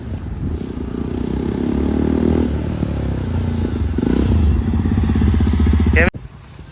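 A motorcycle engine rumbles steadily nearby, its pitch rising and falling as it revs, with voices faintly mixed in before it cuts off abruptly.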